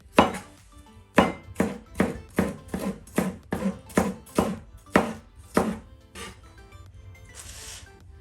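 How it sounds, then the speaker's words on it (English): A knife slices peppers into thin strips, landing about a dozen sharp, evenly spaced chops on a cutting board at close range, then a short scraping sweep. No voices. "for peppers, we're going to chop them to thin slices again"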